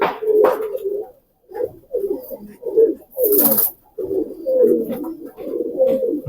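A male pigeon held in the hand coos in repeated low, throaty bursts, close and clear, with short pauses between phrases and no talking.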